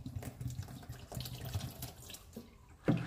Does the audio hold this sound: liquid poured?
yes